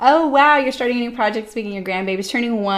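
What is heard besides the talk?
No everyday noise stands out behind the speech.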